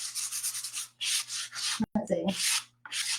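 A used sanding pad rubs back paint on a mixed media flag made with Dixie Belle Mud, giving close, steady scratchy strokes that pause briefly near the middle, with a short spoken remark in between.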